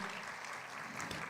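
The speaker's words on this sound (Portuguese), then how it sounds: "Aplauda ao Senhor Jesus." A congregation applauds at a church conference, a brief, fairly faint, even wash of many hands clapping with no voices standing out.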